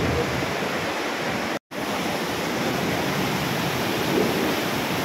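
Flowing water of a mountain stream in Himachal in July: a loud, steady broadband rush of water heard close up, briefly interrupted by a short dropout, then continuing unchanged.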